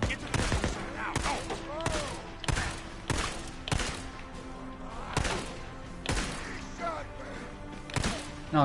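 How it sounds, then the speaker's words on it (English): Gunfire in the video game Days Gone comes as repeated loud, sharp bursts of shots at irregular intervals, each with a booming thud. A person talks in between. "I'll keep shooting you."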